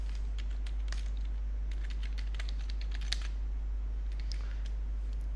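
Username being typed on a computer keyboard during cloud virtual machine setup: a steady run of light, close key clicks with small irregular gaps over a faint constant hum, no talking.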